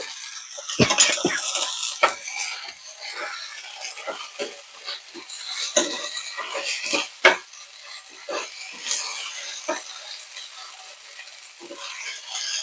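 Ginger garlic paste frying gently in a pan over a medium flame, a soft continuous sizzle broken by repeated spoon scrapes and stirring clinks.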